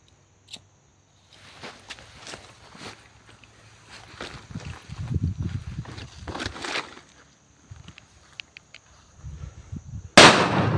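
A firecracker is test-fired outdoors: shuffling footsteps and scattered handling noises lead up to a single sharp, loud, close burst near the end.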